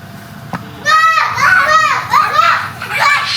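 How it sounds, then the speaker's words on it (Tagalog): Several young children shout and chatter noisily in a home garage, their high excited voices rising and falling continuously and loudly close by, with brief calls overlapping throughout. "Ang mga batang maiingay."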